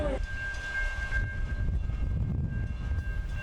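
Edmonton LRT light rail train at Belvedere Station, a steady low rumble of rolling cars with a faint sustained tonal whine over the top, continuous and moderately close.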